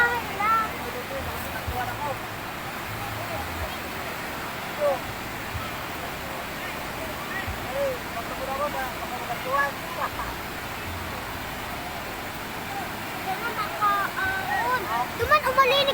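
A raging river current rushes in a steady, loud broadband roar of turbulent water, continuous throughout with faint voices in the background.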